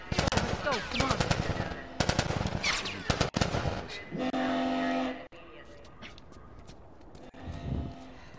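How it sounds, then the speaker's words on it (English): Automatic gunfire and explosions from The Last of Us video game crackle in rapid loud bursts, followed by a heavy rumbling blast and lingering mechanical noise, with shouting voices over the action. "It got pretty loud in the game this time. Explosions and stuff."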